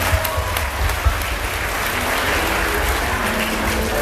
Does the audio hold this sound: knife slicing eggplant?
no